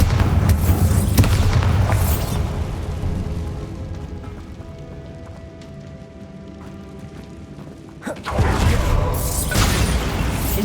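Bombarda explosion spell in Hogwarts Legacy: a loud booming blast that rumbles and decays over several seconds, then a second heavy explosive burst around eight seconds, with debris-like crackle.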